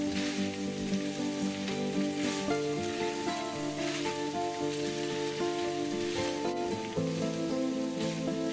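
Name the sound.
bell pepper frying with meat and onion in a pan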